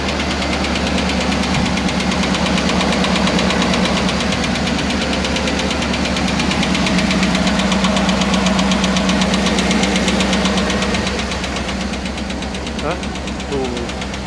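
Isuzu engine with a knocking lifter, a fast steady ticking knock riding over a loud continuous running drone, with people talking in the background.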